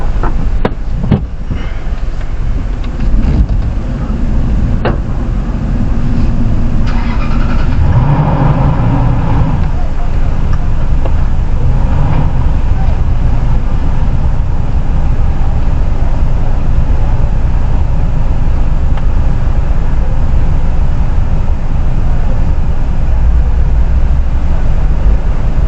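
Cars and a truck pass along a rural Jamaican road after Hurricane Melissa, heard from inside a moving vehicle as a constant loud engine and road rumble with swells as traffic goes by, and occasional voices.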